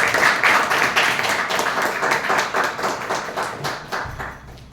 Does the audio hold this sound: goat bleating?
no